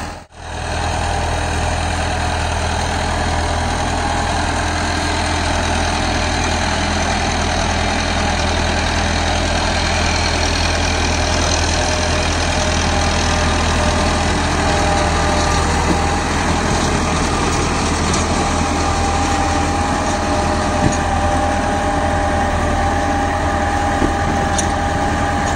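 A Farmtrac 6065 Supermaxx 65 hp 4WD tractor runs steadily while pulling a cultivator through clay soil, its diesel engine giving a continuous close, loud drone with no break and no talking.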